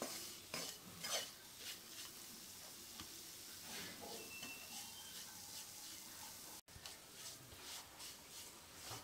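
Gram flour (besan) dry-roasts over a low flame while a spoon stirs it continuously, producing quiet scraping and soft rustling against the pan with a faint hiss, fairly hushed and close.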